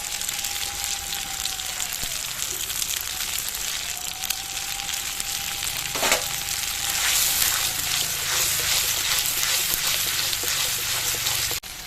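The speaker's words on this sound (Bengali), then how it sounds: "এবার এর মধ্যে দিয়ে দিচ্ছি সাদা সর্ষে বাটা," White mustard paste fries and is stirred in a wok, giving a steady broadband sizzle with scraping stir strokes, close and continuous throughout.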